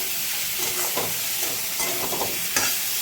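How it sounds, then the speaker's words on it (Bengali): Slit green chillies sizzle and fry with rice, potatoes and spices in a hot pan, a continuous close hiss broken by occasional scrapes and stirring. "কয়েকটা কাঁচা লঙ্কা চেরা আছে এটা দিয়ে দিলাম"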